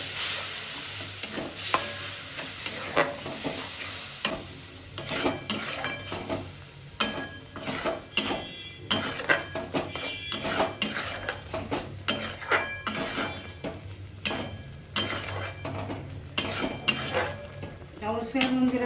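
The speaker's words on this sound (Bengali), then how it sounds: "পেঁয়াজটা একটু ভেজে নেব। দিয়েছি পোস্ত বাটাটা, জল দিয়ে দিলাম।" Sliced onion frying in a pan with poppy seed paste and water added, cooking for a Bengali prawn posto; steady sizzling runs throughout under frequent stirring scrapes and clinks of a utensil against the pan, close and fairly loud, with no talk.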